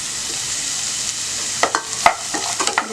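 Beans, carrot, peas and capsicum sautéing in a pan, a loud steady sizzle, with several sharp spatula scrapes and clacks toward the end.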